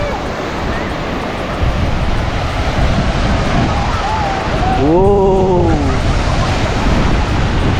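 Surf rolls steadily onto the Meron Island shore in Cebu, a loud broadband wash with wind buffeting the microphone, while a voice lets out an excited exclamation partway through.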